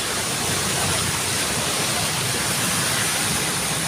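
Swollen river water rushes near the Gulod bridge after nonstop rain, a loud, unbroken roar close by with no pauses and no voices.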